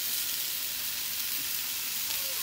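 Large meatballs frying in a pan, giving a steady, dense sizzle that runs unbroken and fairly close throughout, with no talking.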